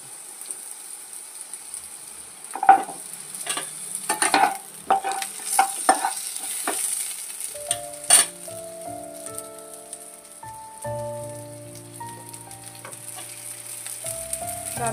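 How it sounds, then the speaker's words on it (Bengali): Cut red potatoes and papaya being stirred in a frying pan for a Bengali fish curry: irregular close scrapes and clacks of stirring, then a steady sizzle. "লাল আলুর সাথে দিয়ে দিচ্ছি পেঁপেগুলো, কাটা পেঁপেগুলো নাড়াচাড়া করে নেবো।"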